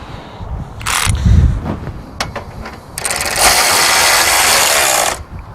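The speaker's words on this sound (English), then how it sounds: "I'm going to tighten all 7 bolts on either side." A hand ratchet tightens trailer axle bolts on a Daxara 239x4 camping trailer, with short bursts of rapid clicking, metallic knocks, then a long, loud sustained run of ratcheting close by.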